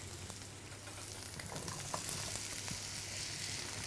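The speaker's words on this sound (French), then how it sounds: "on va maintenant cuire tout ça dans une poêle bien chaude avec un bon filet d'huile d'olive" Spring onions and courgettes fry in olive oil in a hot pan, a soft continuous sizzle with faint crackles throughout, fairly quiet and without speech.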